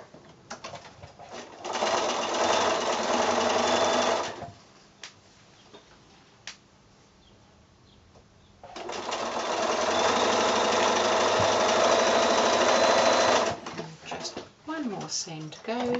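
A sewing machine stitching quilt block pieces made from 2 1/2" squares, running in two steady whirring bursts of several seconds each with a pause between, a voice talking between and after.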